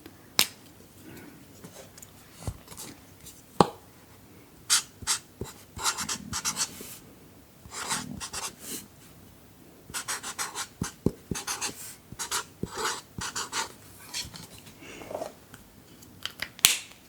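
Close, crisp pen or pencil strokes on paper as words are written by hand in a quiet room, bursts of scratchy scribbling separated by taps and brief pauses.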